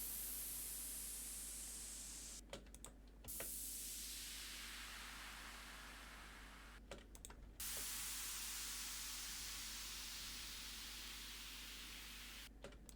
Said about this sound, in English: And then we have some white noise playing every time the snap comes in.